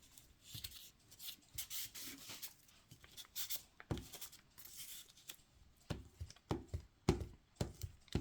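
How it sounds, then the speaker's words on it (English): Glue stick rubbed across plain paper in close, quiet scraping strokes, a run of soft uneven rubs with short pauses and no talk. "Just going to run the glue stick."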